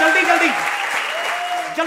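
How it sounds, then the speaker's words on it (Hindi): Studio audience applause on the Comedy Circus stage after a comic tribute, a broad clapping wash lasting under two seconds while a voice carries through over it. "ठोको ताली"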